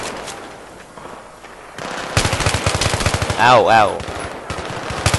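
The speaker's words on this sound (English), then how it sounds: "Taking a lot of fire from that guy" Rapid automatic gunfire from the Battlefield 3 video game, bursts of dense shots and a louder blast, with a player briefly exclaiming over the action.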